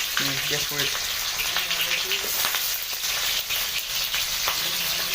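Onions and meat frying in a pan for a birthday feast, giving a loud, steady sizzle throughout with some stirring, while voices talk underneath.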